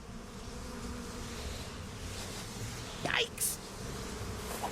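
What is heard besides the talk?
bees buzzing in Psychonauts 2 video game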